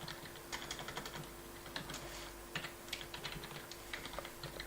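Close, quiet typing of C++ code on a computer keyboard, a fast irregular patter of key clicks in short bursts with brief pauses, over a faint electrical hum.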